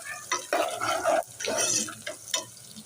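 A spoon scrapes and stirs browning onions in a pan with repeated uneven strokes, the frying sizzle running under the clatter, close and moderately loud.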